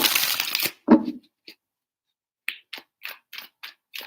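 A burst of riffling cards, then a series of short, crisp snaps and taps, evenly spaced like cards being cut and tapped, close by.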